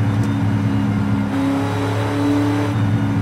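Z28 Camaro engine in Forza Horizon 5 pulling hard, a steady loud rev with a brief dip around a gear change, no talking over it.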